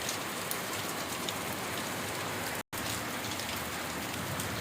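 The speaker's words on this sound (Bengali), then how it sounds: "বৃষ্টি অনবরত হয়ে চলেছে আপাতত দেখা যাচ্ছে" Steady, dense rain falls continuously on surfaces outdoors, a close, even hiss that holds its level throughout, broken only by a momentary cut partway through.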